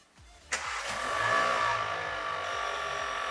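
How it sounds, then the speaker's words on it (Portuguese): A car engine with Bosch direct fuel injection cranks and catches, then settles into a steady idle, loud and close, with no talk over it. "vou pedir para dar a partida do motor"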